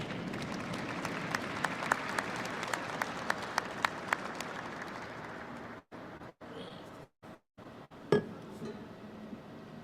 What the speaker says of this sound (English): Yes, clap for him. Please clap for him.